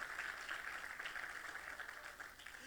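A church congregation applauds during a sermon, a faint, distant, even wash of many hands clapping that continues steadily without a break.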